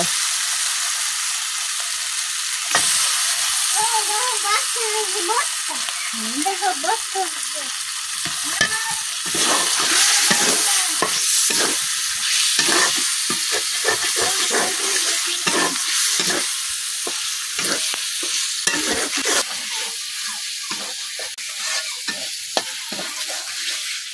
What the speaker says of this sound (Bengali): মশলার সাথে কিন্তু মাংসটা আমি খুব সুন্দরভাবে মিশাই নিচ্ছি।